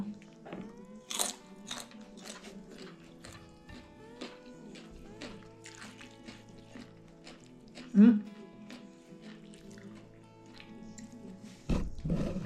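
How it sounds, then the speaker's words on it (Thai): Crunchy, chewy pork rinds are bitten and chewed up close, giving scattered crisp crunches and a louder bite near the middle while a voice murmurs throughout. "ลืมปิดซองแคปหมูทุกคน มีความกรอบๆเหนียวเหนียว"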